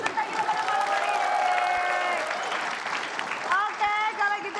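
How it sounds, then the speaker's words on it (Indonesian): A studio audience claps for a game-show contestant, steady applause running under a voice that keeps talking over it. "Tepuk tangan untuk peserta kita pada malam hari ini"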